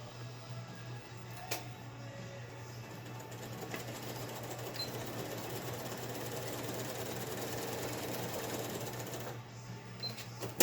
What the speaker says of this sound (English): Just make sure you're sewing on the inside where you folded your fabric